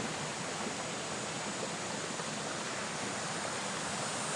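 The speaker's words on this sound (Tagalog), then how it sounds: "Ganda ng falls na to. Malinaw din yung tubig na dumadaloy." Twin waterfall at Talon Bilog in Kaymisas, Bailen, Cavite, with clear water flowing downstream, a steady broadband rushing roar that stays even and unbroken throughout.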